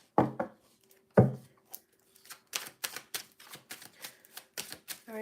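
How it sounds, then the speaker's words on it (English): Tarot cards are shuffled by hand: two sharp riffling bursts near the start, then a quick run of crisp flicking, snapping card sounds, close and clear with no talk. "I want to shuffle these cards first"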